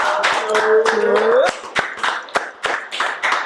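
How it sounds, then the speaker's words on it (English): A few people in a studio clap, sharp separate hand claps, irregular and close, under a voice and laughter at the start, then sparse claps spaced out toward the end. "Let's clap it up."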